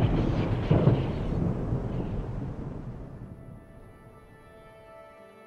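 A deep, rolling rumble of thunder from lightning bolts, loud at first and then slowly fading away over several seconds, heard alone without voices.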